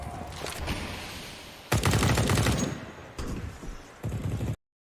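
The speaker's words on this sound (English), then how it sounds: "the auto shotgun has come into style in a big way on Nuke CT side" Rapid bursts of auto shotgun fire in Counter-Strike: Global Offensive on the Nuke map, loud blasts in three separate volleys with brief gaps between, no talk.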